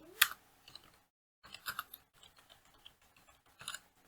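Someone types on a computer keyboard while writing Bangla and English text in MS Word, producing scattered soft key clicks in short bursts with pauses, close and quiet, without talk.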